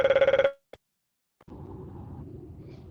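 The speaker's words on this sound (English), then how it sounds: "my alarm went off" A phone alarm rings in a quick pulsing burst of tones for about half a second, then cuts off; after a pause comes a short click and a low muffled rustle, with no speech.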